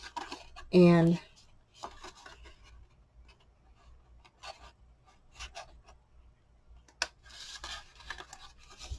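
Cutting a slot in cardstock for a Christmas easel card, with a few quiet, close scratchy snips and scrapes of the blade spread between brief bits of soft speech.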